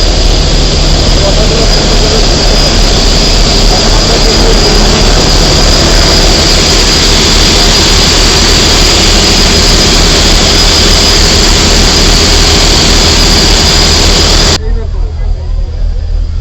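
A river launch ferry engine roars loud and unbroken on the crowded lower deck of a Patuakhali to Galachipa crossing, then drops away near the end.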